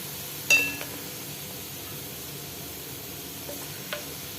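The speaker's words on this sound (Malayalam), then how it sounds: "ഈ സവോളയും നന്നായിട്ട് മൊരിഞ്ഞിട്ടുണ്ടേ അത് നമുക്ക് കോരി മാറ്റാം" Oil sizzles steadily at a low level as onions fry until crisp for Kerala-style inji curry, with a couple of sharp utensil clinks against the pan.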